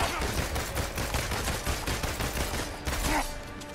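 Rapid gunfire from the video game Marvel's Avengers rattles out in a quick, fairly even burst of repeated shots, continuing for most of the stretch before easing into a softer tail, with no talk over it.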